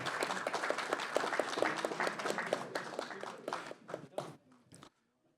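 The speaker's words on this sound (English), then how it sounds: "Give him a big round of applause," Audience applause for honored veterans at a county Board of Supervisors meeting, a dense roomful of clapping that runs loud for several seconds, then thins to a few scattered claps and stops.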